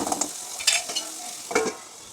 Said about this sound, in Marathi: हे छान भाजून घ्यायचं तेल सुटेपर्यंत